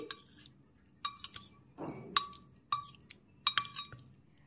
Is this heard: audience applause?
no